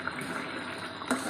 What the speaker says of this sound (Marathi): आपली भाजी छान उकळलेली आहे, म्हणजे अळूचा फतफत छान झालेला आहे